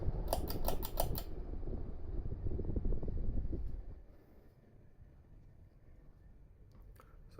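A Fasco Gillespie ceiling fan with an Emerson motor coasting down: a steady low whirring hum with faint rhythmic ticking, stronger at first with a few sharp clicks, then fading to a quieter drone.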